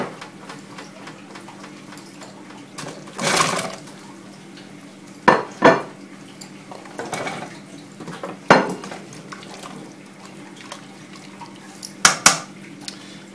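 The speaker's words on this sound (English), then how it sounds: "We're going to add our potatoes and carrots." Potatoes and carrots dropped into a pot of corned beef that has simmered for over two hours, giving several separate clunks and splashes against the pot over a steady low hum, with no talk.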